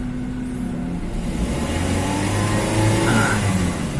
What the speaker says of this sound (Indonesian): Kita gas RPM kita naikkan